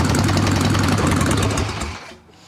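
An Evo Sportster chopper motorcycle engine runs loud and close on a bench lift with a rough, throbbing idle, then sputters out and dies as the fuel runs dry.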